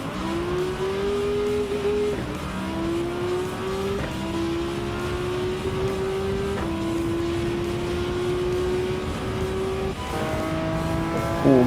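Several race cars in Gran Turismo 7, including a Mazda 787B, Porsche 908, Tomahawk and Jaguar XJR-9, roar past with steady high engine whine, rising pitch through gear changes, loud and continuous with no talking.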